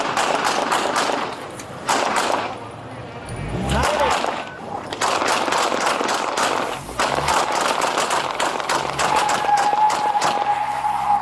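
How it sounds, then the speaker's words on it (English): Police officers firing at an armed driver during a traffic stop in Arizona: rapid, loud gunshots in dense bursts over several seconds, mixed with shouting voices and vehicle noise. "Officers fired again to stop the threat."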